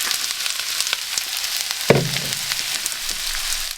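Onions, carrots and cabbage frying in raspberry oil make a loud, steady close sizzle, with a brief sharp clatter of a utensil against the pan partway through.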